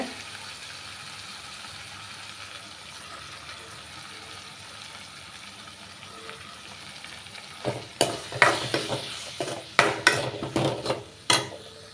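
Tomatoes and chili powder sautéing in oil for a small-onion kuzhambu give a quiet, steady sizzle, then loud, irregular scrapes and clatters of a spoon stirring in the pan take over.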